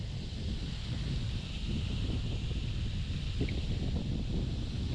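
Wind blows hard across a neighborhood pond, a steady broad rumbling roar with buffeting on the microphone, close and constant, no talk.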